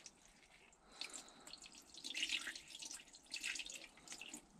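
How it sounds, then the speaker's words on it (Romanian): Water added to a quail egg incubator trickles and drips in two short bursts, close and fairly quiet, with no talking. "Mai pun un pic de apă și cam atât."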